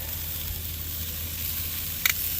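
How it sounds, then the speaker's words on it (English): Steady sizzling of chicken and vegetable kabobs cooking on a grill over high heat, a continuous crackling hiss with a brief louder pop near the end. "As you can hear them sizzling."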